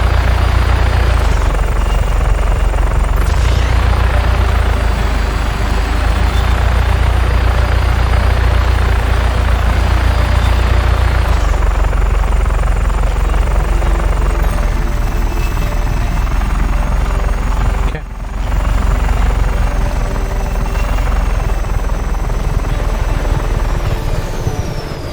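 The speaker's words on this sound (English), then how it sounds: "It is a nice helicopter." A helicopter in the video game Just Cause 3 drones steadily and loudly throughout, its rotor and engine hum continuous with a brief dip near the end.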